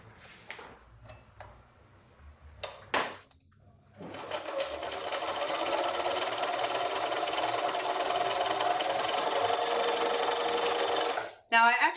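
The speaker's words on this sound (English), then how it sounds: "sew them with a quarter inch seam allowance along the side where they were neighboring" A few scattered clicks and handling taps, then a sewing machine runs in a long, steady whir stitching patchwork squares with a quarter-inch seam for a pillow, stopping abruptly near the end.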